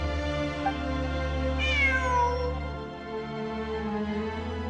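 A cat in the video game Genshin Impact lets out a clear, drawn-out meow over a steady, droning game music background, heard alone without any talking.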